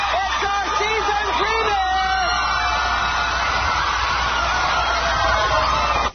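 Women in a studio audience scream and shriek in a frenzy, a loud sustained wall of high excited voices with a few rising whoops, continuous until an abrupt cutoff.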